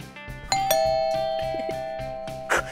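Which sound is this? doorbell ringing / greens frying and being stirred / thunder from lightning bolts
doorbell ringing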